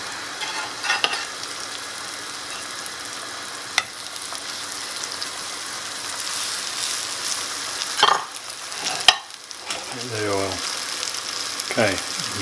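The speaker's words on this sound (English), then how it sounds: "get them cooking, hear them sizzling, leave them" Black bean burger patties sizzle and crackle steadily in a hot frying pan, a continuous fizzing hiss with a few clinks and scrapes, and brief voices near the end.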